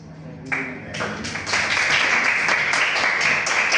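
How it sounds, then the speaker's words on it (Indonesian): Classroom audience in a vocational school session breaks into applause, a dense wash of many hands clapping that builds from a few claps into sustained, fairly loud clapping filling the room. "tepuk tangan buat Mas."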